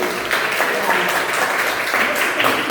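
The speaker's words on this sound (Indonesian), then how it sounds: "Tepuk tangan untuk kelompok auditori" Classroom applause for a student group after their presentation on learning styles, an even stretch of clapping from a roomful of people, steady and fairly close, without any talk over it.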